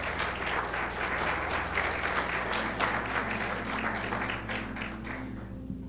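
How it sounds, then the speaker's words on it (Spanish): Congregation applause during a church service, continuous steady clapping from a crowd, fairly distant and soft, holding for several seconds before easing slightly at the end. "Dale un aplauso al Señor,"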